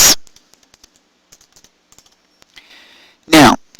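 Sparse keystrokes on a computer keyboard tap out one by one in a quiet room, soft isolated clicks with a short burst of faint noise and louder bumps at the start and end.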